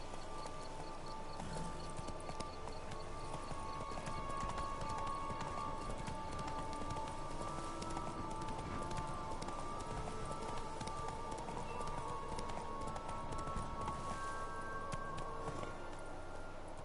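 Roach the horse gallops in The Witcher 3, a steady rapid clip-clop of hooves running on and on under game music and ambient sound, with no break in the pace.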